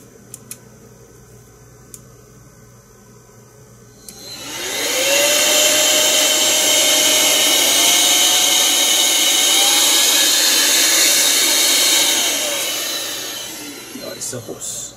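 WUPYE compressed air duster blowing steadily for about eight seconds, a loud continuous rushing hiss that swells in, holds with a slight rising whine and fades out, with faint clicks before and after.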